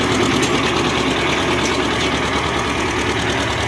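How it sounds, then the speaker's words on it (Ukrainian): A T-30 tractor engine idles steadily and loudly with a dense mechanical knock, and a faint gearbox whine runs beneath it after a reverser change. "Коробку чуть-чуть чути, тому що реверс помінявся"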